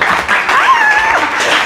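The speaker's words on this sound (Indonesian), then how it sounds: "Berikan sorak-sorai." Church congregation gives a brief, loud burst of cheering and clapping, a dense wash of voices that sounds close and swells, with a faint shout rising above the crowd.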